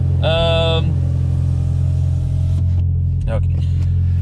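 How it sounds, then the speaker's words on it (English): A BMW 1 Series car engine runs at a steady, rumbling idle close by after a cold start, with a short high whine near the start. "but first a cold start."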